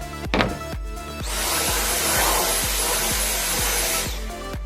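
A vacuum cleaner draws up dust while a hole is cut into a ceiling for a canless recessed light. Its steady, loud whoosh runs for about three seconds, framed by sharp tapping or clicking sounds before and after.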